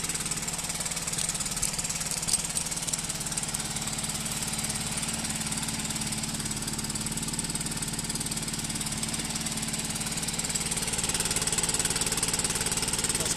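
A Stihl BR 800 backpack leaf blower engine idles steadily while warming up, a constant close buzzing drone with no talk.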